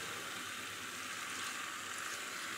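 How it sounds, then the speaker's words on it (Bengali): Rice fries in a pan with chili sauce and chili oil, giving a steady, soft hissing sizzle that runs evenly throughout without any talking. "আমি ফ্রাইড রাইস বানাচ্ছি"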